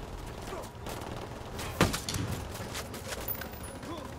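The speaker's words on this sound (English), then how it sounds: "I'm shooting people through trees." Gunfire in Ghost Recon Wildlands aimed through trees at enemy Sicarios: one sharp report stands out amid scattered distant shots over steady ambient noise, with talk running underneath.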